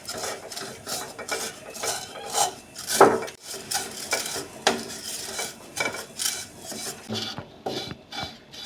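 Vermicelli roasts in a kadai over a low flame while being stirred, giving close, irregular scraping and clinking of a utensil against the pan with a soft rustle of dry strands between strokes.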